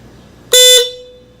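A single loud blast of a Hella Supertone horn on a 2018 Honda Grom, short and sharp, heard from outside the motorcycle, with a brief trailing tone fading after.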